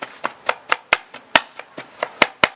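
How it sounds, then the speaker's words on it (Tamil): A large knife chops chicken finely for homemade shawarma, hitting a board in about a dozen sharp, evenly spaced strokes, loud and close with no talk. "இந்த மாதிரி பொடிசாக கொத்தி எடுத்துக்கிறோம்."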